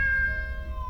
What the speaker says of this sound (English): I heard the same meow again